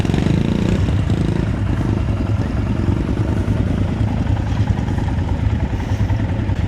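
A motorcycle engine runs during a group ride with friends, its steady droning rumble dense and loud throughout.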